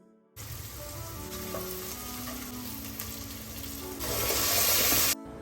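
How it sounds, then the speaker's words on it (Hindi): Okra frying in a small amount of oil in a home kitchen in Mangalore gives a steady, close sizzle that grows louder and brighter toward the end, with no talking. "तेल थोड़ा कम पड़ रहा था टू फ्राई द भिंडी"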